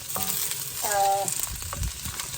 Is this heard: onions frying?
yes